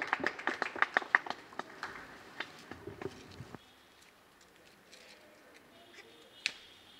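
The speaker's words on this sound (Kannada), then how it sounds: "ಇವರಿಗಾಗಿ ಜೋರಾಗಿ ಒಂದು ಚಪ್ಪಾಳೆಯನ್ನು ನೀಡಬೇಕಾಗಿ ವಿನಂತಿಸಿಕೊಳ್ಳುತ್ತಿದ್ದೇನೆ." Scattered hand claps from a small audience at a sewage treatment plant inauguration, a quick irregular patter of claps that thins out and fades to near quiet after a few seconds.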